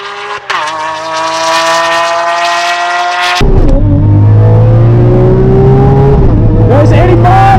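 Lamborghini Aventador accelerating hard at full throttle, a loud close engine roar climbing steadily in pitch, dropping at a gear change, then rising again in a lower gear.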